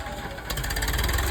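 A tractor engine pulling up cotton plants in a farm field, a close, rough mid-pitched rumble with rattling vibration that grows louder partway through the short stretch.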